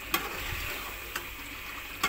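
A custard mixture with sugar being stirred in a pot on the stove: faint soft scraping and liquid swishing, with a few sharp utensil clicks against the pot, quiet and without talk.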